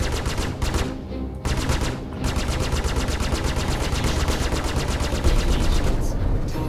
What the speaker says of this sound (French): Moi j'ai un espèce de minigun